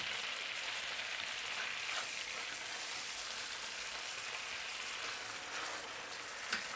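Poultry frying in a honey sauce in a pan on a stove gives a steady, quiet sizzle and crackle throughout, with no talking.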